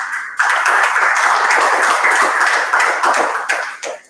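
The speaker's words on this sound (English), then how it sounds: "I'd like to give them all a round of applause" Warm audience applause at a mock cheque handover ceremony honoring heroes: a thick, sustained wash of many hands clapping together that swells quickly and then tapers off near the end.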